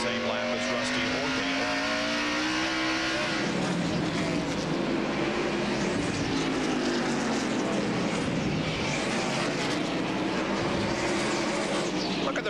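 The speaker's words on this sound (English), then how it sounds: "There's Musgrave, the Family Channel car, going past." A NASCAR stock car races past on the North Wilkesboro track during the 1994 First Union 400, its engine roar swelling and shifting pitch as it goes by, loud over constant broadband track noise.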